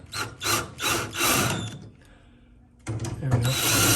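Screws being tightened down with a power drill while a refrigerator door is reversed, giving bursts of ratcheting, whirring mechanical noise with a pause in the middle, close and fairly loud.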